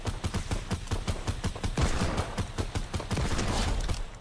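Rapid, continuous gunfire from a Fortnite match, with dense bursts of automatic shots rattling steadily and loudly throughout with no pauses.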